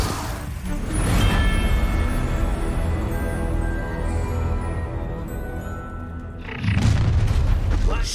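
The Bombarda explosion spell in the Hogwarts Legacy video game: two loud, heavy booms with a rumbling sustained tail between them, the second blast striking near the end.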